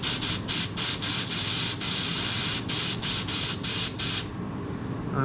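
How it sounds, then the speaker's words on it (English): Freon refrigerant hissing out of an AC service valve on a 2016 Cadillac ATS 2.5, a loud, close spray in repeated bursts with brief breaks as the valve is tapped, cutting off abruptly near the end. "We'll come to your valve here and make sure that you just tap it until get some Freon out"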